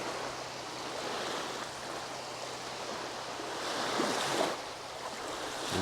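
Waves wash steadily onto the Lake Michigan beach at Manistee, Michigan, a continuous broadband surf with light wind noise and a slightly louder swell near the end, heard alone without talk.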